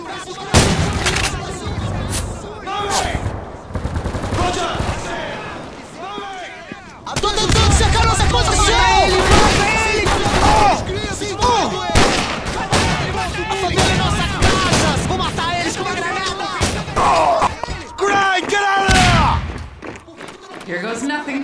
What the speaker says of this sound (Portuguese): Continua atirando!